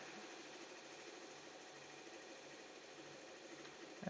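An embroidery machine stitching hats hums in a steady, fast mechanical rhythm, close and fairly quiet, running unbroken without any voices.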